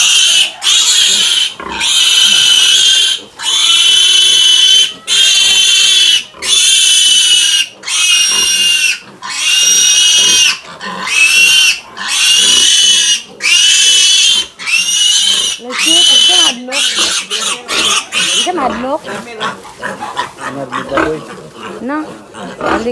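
Pigs and piglets on a pig farm squeal loudly and shrilly in repeated long cries with short breaks between them, then shift to quicker, choppier squeals and grunts near the end.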